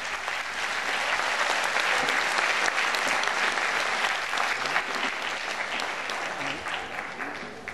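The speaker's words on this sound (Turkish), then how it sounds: "Alkışlarınız solistlerimiz Esra Sakallıoğlu, Adalet Sürer ve Belkıs Özy" Concert audience applauding choir soloists at a Turkish classical music performance, a steady, dense wave of clapping from a large hall crowd, loud and continuous, easing slightly toward the end.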